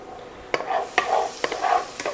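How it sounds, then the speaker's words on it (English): Sizzling in a hot pan, with a steady hiss broken by several sharp clanks or scrapes of a utensil at regular intervals, close by. "I want it nice and sizzling."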